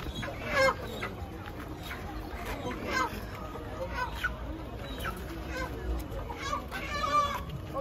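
Live chickens cluck repeatedly at an outdoor market in Port Harcourt, their calls mixed with crowd babble and people talking nearby.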